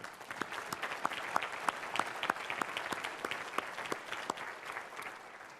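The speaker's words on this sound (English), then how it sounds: "if you all will help me just with another round of applause for Jim Mullen" A crowd at a United Way of Summit County annual meeting applauds Jim Mullen with steady, moderately distant clapping, many scattered claps blending into a continuous patter that fades slightly near the end.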